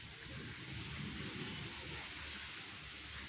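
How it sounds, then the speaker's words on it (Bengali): Light spring drizzle falls as a soft, steady patter, a gentle continuous hiss of fine rain with no voices, close and even throughout. "খুব জোরে পড়ছে না, কিন্তু ওই হালকা হালকা করে ছিপছিপ করা বৃষ্টি যেটাকে বলে, ওইভাবে পড়ছে।"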